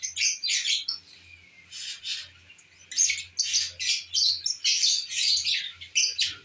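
Pet lovebirds set up for breeding give bursts of sharp, high chirps and squawks in quick repeated runs, loud and close, with short pauses between calls.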